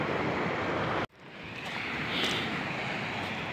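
Steady roar of rough surf breaking on a shore, with a brief dropout near the start before the wash swells back.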